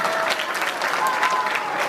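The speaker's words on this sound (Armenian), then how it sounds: "ծափահարենք մեր տնօրենին" An audience claps steadily for a cultural centre's director at a youth concert of Artsakh national instruments in Sevkar village, a dense, even patter of applause lasting throughout.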